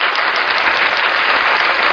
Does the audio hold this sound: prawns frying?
no